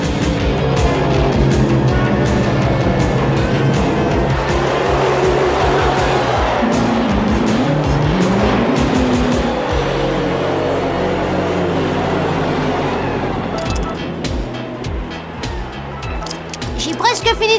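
Indy 500 race cars in a cartoon roar past with a constant engine drone and some tire squeal, loud and close. Voices talk over the din.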